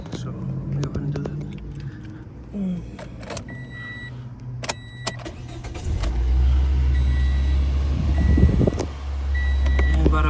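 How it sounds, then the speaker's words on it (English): A 2015 Toyota Yaris with 119,000 miles and a newly replaced O2 sensor cranks and starts midway, a short burst of clicks and beeps before the engine catches into a steady close idle rumble, with a brief rev. "I'm gonna go ahead and start my Yaris"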